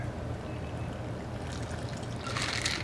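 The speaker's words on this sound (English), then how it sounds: "Give that a nice pour." A cocktail made with juices and spice is poured into a glass, a faint steady trickle of liquid that brightens into a splashier stream toward the end.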